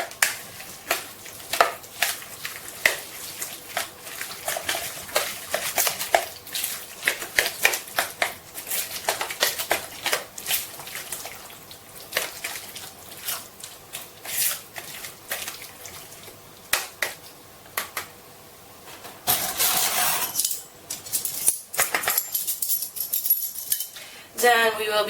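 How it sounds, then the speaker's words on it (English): Tzatziki sauce being stirred with lemon juice in a bowl: rapid, irregular wet clicks and clacks of a utensil against the dish, close and sharp, continuing steadily before a short pause and a few more scrapes. "And just mix it up."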